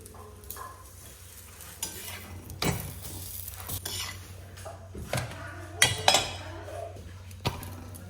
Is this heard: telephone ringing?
no